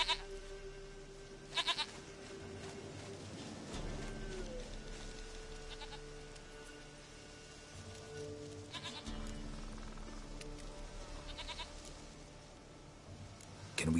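A goat in The Witcher 3 bleating a few times at moderate distance, heard over wind and soft game music.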